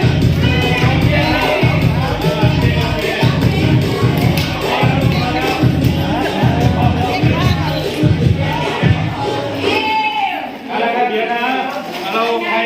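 A large crowd cheers on an egg-eating contest, roaring loudly, with rhythmic thumping and shouting voices mixed in, the noise dipping briefly near the end.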